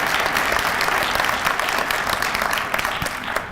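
A town hall audience applauds a panel of young people at an evening event on youth violence, dense, loud clapping from a full room holding steady throughout.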